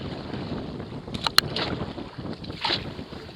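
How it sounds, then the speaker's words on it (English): A kayak paddles against a strong river current in the Thousand Islands, with wind buffeting and water rushing throughout, and a couple of brief splashy paddle strokes standing out near the microphone. "now we're paddling against the current"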